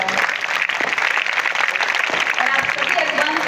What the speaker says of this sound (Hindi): जोरदार ताली के लिए बजाएं।